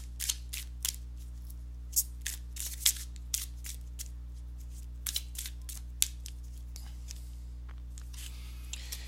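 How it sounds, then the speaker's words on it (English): Quick, crisp riffling and snapping of tarot cards being shuffled in irregular bursts, close up, with no voices. "let me go ahead and give these cards a shuffle"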